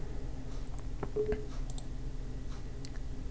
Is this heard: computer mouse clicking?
yes